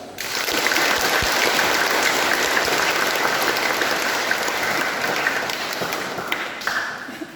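Sustained applause from a church congregation during a first Mass for a newly ordained priest at St. Theodorus Parish, Weluli: loud, dense clapping that holds steady for several seconds and tapers slightly near the end, with no talking.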